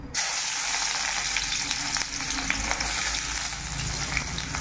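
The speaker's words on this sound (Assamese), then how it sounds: "পিঁয়াজটো ভাজি এইখিনি দি দিম।" Onions frying in hot oil in a home kitchen, a continuous crackling sizzle with occasional stirring scrapes, steady and close with no talking.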